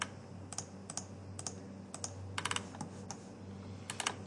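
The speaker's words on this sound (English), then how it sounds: "I really need to buy a new mouse, guys. It's really making an ugly noise here." A worn, noisy computer mouse clicks during window-family modeling work in Revit. The sharp clicks come in irregular single and clustered bursts over a low steady hum, close and fairly loud.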